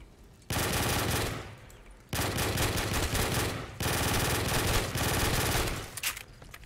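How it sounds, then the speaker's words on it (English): A P90 submachine gun fires in Call of Duty custom zombies, three long, loud sustained bursts of rapid automatic fire separated by short pauses. "This P90 is so loud"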